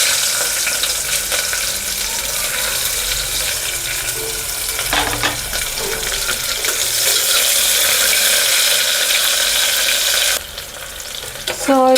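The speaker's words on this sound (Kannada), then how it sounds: "ಸೊ ಇದು ಬ್ರೌನ್ ಆಗೋವರೆಗೂ ಫ್ರೈ ಮಾಡ್ಕೊಳ್ಳೋಣ ಈರುಳ್ಳಿ." Onions sizzling and frying in a pan for a breakfast rice bath, a steady crackling hiss throughout with occasional stirring scrapes and a brief dip near the end before the sizzle resumes.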